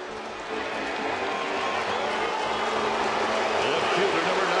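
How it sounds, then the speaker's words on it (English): A Braves home crowd at an Atlanta baseball game against Los Angeles reacts as Manny Ramirez comes up to bat: a dense, steady roar of many voices and cheers that swells after a quiet start and holds loud throughout. "let's listen in to see how the Braves crowd"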